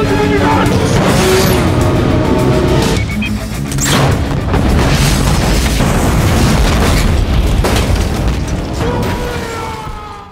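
Vehicles blow up in a film action scene, heavy booming blasts and bursts layered with roaring cars and screeching tires, loud and dense throughout with a brief voice underneath.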